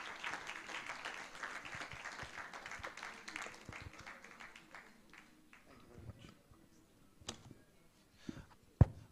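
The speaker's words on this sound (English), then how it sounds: "A round of applause for Mr. Tunde Mabawonko." Audience applause at an annual faculty lecture on glaucoma care in Nigeria, a dense burst of clapping that thins out over several seconds into scattered claps and room noise.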